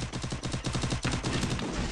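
Rapid bursts of automatic gunfire in the video game Free Fire, a close, steady rattle of shots with a brief pause midway, no talking.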